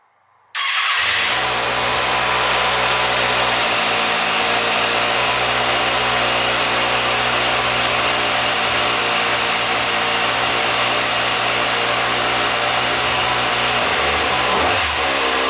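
A motorcycle with its stock exhaust fires up from cold, catching abruptly and settling into a loud, steady, rumbling idle that holds for over a dozen seconds with a slight wobble near the end; no one speaks.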